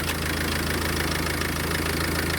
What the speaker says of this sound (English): I will just kick the compressor in by being very naughty and just tapping my clutch into this 5 amp fuse here